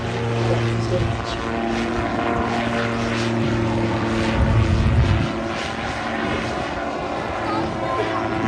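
A gyroplane flies a display at an air festival, its propeller engine droning continuously at moderate distance with a brief swell midway, while a commentator talks over a public address.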